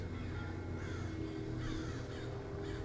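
Crows caw repeatedly inside the Face Your Fears VR game as birds circle the player, steady harsh calls over a continuous droning game ambience with no speech.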